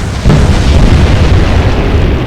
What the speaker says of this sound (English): Huge explosion from the Milne